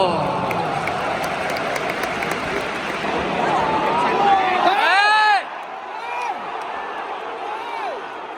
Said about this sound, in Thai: แฟนๆนิวคาสเซิลเขาก็ เริ่มเชียร์กันหนักขึ้นนะครับ